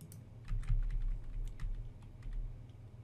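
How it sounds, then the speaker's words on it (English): Arrow keys on a computer keyboard are tapped in quick, light clicks, a soft irregular series of keystrokes close by in a quiet room. "Using the arrow keys, I just lighten those bricks."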